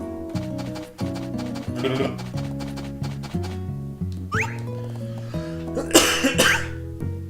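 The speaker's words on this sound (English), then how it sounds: "Sorry for the coughing." A person coughs repeatedly and clears their throat, several close, loud bursts heard over background video game music from Harvest Moon: A Wonderful Life.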